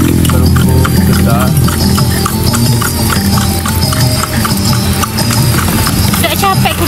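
A ridden horse walks with steady, rhythmic clip-clop hoofbeats that sound close and loud, while people talk over them.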